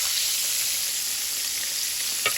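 A pan of onions sizzling loudly alongside beef liver, a dense, even hiss heard up close that holds steady throughout, with a brief clatter right at the end.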